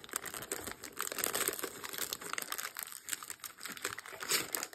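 Crinkly plastic packaging of a paint-by-numbers kit being torn and opened by hand, steady crackling and rustling close up for several seconds without speech.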